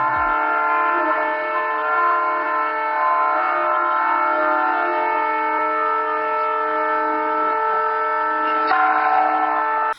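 Amrit Bharat Express passenger train pulling out on the Saharsa–Mumbai route, a long steady horn or whistle blast holding strong and unbroken for the whole stretch, loud and close.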